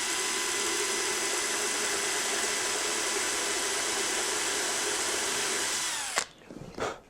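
A small power drill bores 1.5 mm pilot holes into a model glider fuselage, a steady high whine for about six seconds that stops abruptly, followed by a few soft handling noises.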